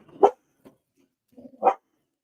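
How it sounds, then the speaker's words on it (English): A dog barks indoors, two short separate barks with soft whimpering between them, close and alone with no talk. "What are you barking at?"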